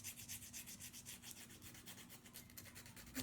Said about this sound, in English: I'm just going to go around my edges with a Revlon file